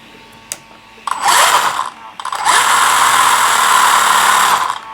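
A 3660-size 3500 kV electric motor in an RC car spins up in two bursts, a high, loud whine that rises sharply, drops off after a short run, then surges again and holds before cutting out.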